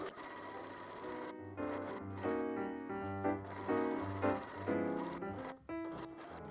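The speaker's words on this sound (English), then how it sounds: "If you feel that the machine is stitching through some bulky layers" A sewing machine stitches through bulky layers of a travel-size pillowcase seam, a close mechanical hum in several short bursts with brief stops between them.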